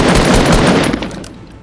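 Rapid automatic gunfire in Fortnite, a loud, sustained burst that tails off and fades near the end.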